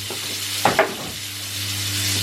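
Hot water being stirred into a cleaning solution with a capful of fabric softener, for cleaning beds: two brief splashy clinks near the start over a steady low hum, with no talking.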